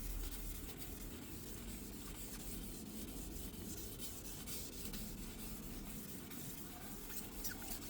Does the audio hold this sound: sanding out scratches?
yes